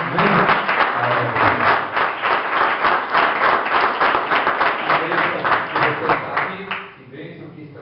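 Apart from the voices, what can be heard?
church congregation applauding the Lord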